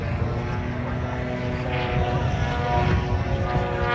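A radio-controlled Extra 300 aerobatic model airplane of about 12 kg flies freestyle at the LMA Elvington Airshow, its propeller engine droning steadily and fairly loud overhead, alone.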